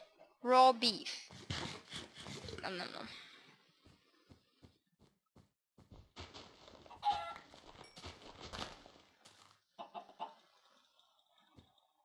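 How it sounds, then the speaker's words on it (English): Clucking chicken sounds from the 2D Craft video game come in short bursts between spoken remarks and laughter, with one sharper call near the start and scattered softer clucks afterward. "Chicken!"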